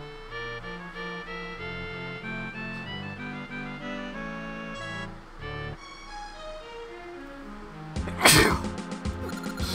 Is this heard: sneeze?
yes